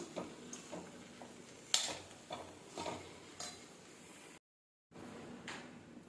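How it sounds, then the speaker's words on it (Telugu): A spoon stirs coriander into a potato and spinach paratha filling in a pan, with a series of light metallic scrapes and clinks in an irregular rhythm, close and fairly quiet, broken by a brief gap of silence. "ఇప్పుడు కొత్తిమీర వేసుకుని బాగా కలుపుకుందామండి"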